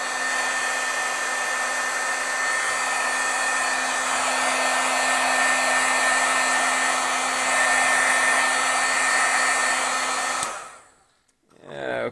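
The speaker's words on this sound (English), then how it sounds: "We'll heat set a little bit from the back as well." A heat tool blows hot air in a steady, loud whirring roar to heat set metallic foil stamping from the back, running alone for about ten seconds before cutting off and winding down.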